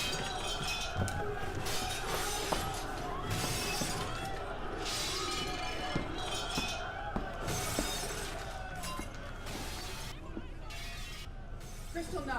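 Glass shattering and smashing as a sound effect in a Kristallnacht drama set in November 1938, with dense crashing and tinkling fragments running continuously and loudly throughout, mixed with crowd-like noise.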